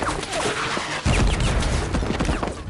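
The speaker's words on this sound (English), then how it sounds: "there's enemy fire" Enemy gunfire in Wolfenstein: The New Order crackles in dense, rapid bursts, loud and close, with a heavier thumping volley partway through and no voices.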